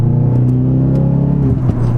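A Ford Focus RS with 360 hp and four-wheel drive accelerates, its engine droning loudly and steadily up close with a faint whistle over the rumble, then shifting briefly near the end.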